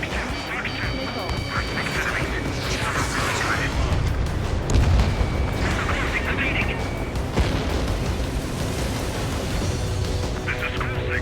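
Missiles launch and explode in Ace Combat 7 Skies Unknown during aerial combat, dense booms and blasts layered over constant jet roar, with radio chatter and warning tones mixed in.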